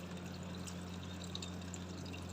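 A twenty-year-old LG automatic washing machine fills with water, a soft steady rush and trickle over a constant low motor hum, quiet and continuous with no speech.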